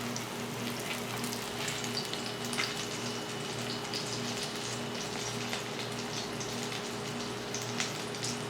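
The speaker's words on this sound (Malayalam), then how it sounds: "അപ്പോൾ നമ്മൾ എടുത്ത ഫിഷ് മുഴുവൻ നമ്മൾ ഫ്രൈ ചെയ്തെടുത്തിട്ടുണ്ട്." Fish frying in oil in a pan, a steady dense crackle and sizzle throughout with a low hum underneath, no voices.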